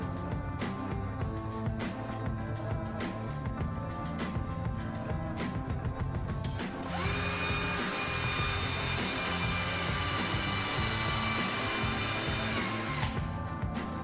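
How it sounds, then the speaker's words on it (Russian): A power drill drives a self-tapping screw into a wooden bar during hydroponic equipment installation, a steady loud whine running for several seconds in the middle of the clip over background noise. "чтобы саморез удерживался или входил более"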